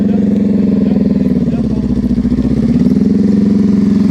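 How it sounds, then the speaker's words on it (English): A motorcycle engine idles loud and close during a slow-speed riding practice session, a steady low rumbling putter with a fast even pulse that dips slightly midway, while a person talks over it. "Hey, Rob, your bike is on."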